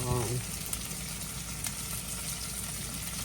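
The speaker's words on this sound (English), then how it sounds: "these peppers and onions are gonna be just right. Okay, so we're just gonna let them saute" Sliced peppers and onions sautéing in a pan, a continuous close sizzle with light crackle that carries evenly throughout, after a brief voice at the very start.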